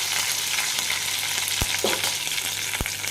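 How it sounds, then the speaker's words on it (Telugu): Mustard seeds and curry leaves sizzle loudly and steadily in hot oil in a pan, a dense close frying hiss with a few sharp pops and scrapes as they are stirred. No one talks. "ఆయిల్ కొంచెం హీట్ అయినాక కొంచెం ఆవాలు కరివేపాకు వేసేసుకుందాం"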